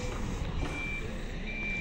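Reversing beeps from a pilgrim bus at the crowded Horto do Padre Cícero, a steady high tone pulsing over a constant low engine rumble and busy background noise.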